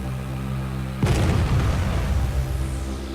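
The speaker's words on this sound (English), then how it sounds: "we'll show an artillery strike in action. I've called in a strike on this anti-aircraft vehicle in the centre of the scene" Artillery shells strike an anti-aircraft vehicle in the video game Arma 3, a heavy boom bursting out about a second in over a steady droning background, followed by a rumbling, crackling tail that fades slowly.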